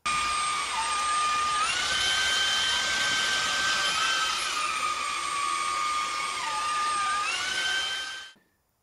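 A Xiaomi Mijia K10 cordless vacuum runs with a loud, steady high-pitched whir that shifts pitch a few times before winding down to silence.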